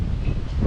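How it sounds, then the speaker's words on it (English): Gusty wind blows on a small, narrow lake, a brief, steady rumble buffeting the microphone. "Very windy, very gusty today,"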